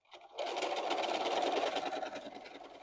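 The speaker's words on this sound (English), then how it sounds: "Now I'm going to switch to a zigzag stitch so I can fill it in." Sewing machine running a zigzag stitch to fill in a quilting design, a fast, even mechanical whir that starts abruptly and runs steadily at close range before easing off slightly at the end.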